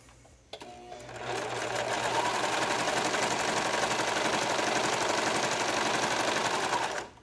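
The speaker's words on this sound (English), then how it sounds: "we're going to continue stitching all the way up the back of the tank top." A sewing machine runs a long continuous seam up the back of a tank top, a steady fast close-up whir of needle strokes that starts after a brief click and stops abruptly near the end.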